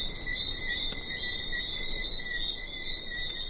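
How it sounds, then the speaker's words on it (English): Small frogs chorus at night on a Caribbean island, a steady layered high-pitched trilling that runs continuously without pause, with a faint breeze in the background. "There's just the sound of the breeze and these little frogs that come out at night and chorus all over"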